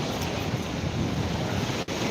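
Sea waves at Digha beach at night, a dense continuous roar of surf mixed with wind rumble, loud and steady throughout.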